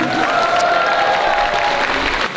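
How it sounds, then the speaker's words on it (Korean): Crowd applause after a combat sports fight, dense and loud clapping from a large audience that keeps going evenly throughout, with a faint steady tone running underneath. "멋진 경기를 보여준 야차 선수께 큰 박수 부탁드리겠습니다"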